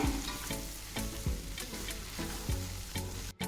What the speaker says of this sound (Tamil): நெக்ஸ்ட் கட் பண்ணி வச்ச முட்டையை போட்டுடலாம். அடுப்பை கம்மியாகவே வச்சுக்கோங்க. இதையும் நல்லா மிக்ஸ் பண்ணுங்க.